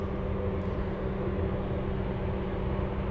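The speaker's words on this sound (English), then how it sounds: "That is a Saab 340." A Saab 340 turboprop takes off at Anchorage airport, giving a steady, even propeller drone with a faint tonal hum. The sound holds at one level throughout, with no voices.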